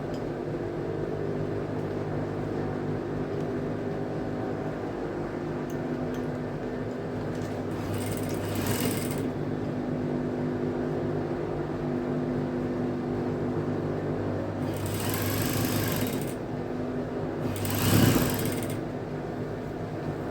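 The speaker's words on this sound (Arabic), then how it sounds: "وابتدي اخد خياطة بقى كده" A sewing machine stitches four layers of school-uniform pinafore fabric with overlocked edges, a steady motor drone running throughout with a few brief brighter whirring bursts. No one speaks.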